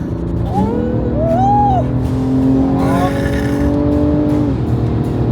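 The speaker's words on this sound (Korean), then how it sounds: "이 소리 이게 BMW입니다" A BMW car engine revs loudly in a dealership showroom, its pitch sweeping up and holding high before dropping away, with brief voices and a squeal-like tone over the roar.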